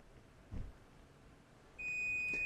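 A kitchen timer goes off after fish cooks at 450 degrees, a steady high electronic beep starting about two-thirds through and holding to the end over quiet room noise, preceded by a brief low thump.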